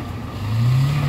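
A Toyota Avanza engine with a black smoke problem is revved up, its low engine note rising in pitch and loudness as it climbs, heard up close without talk.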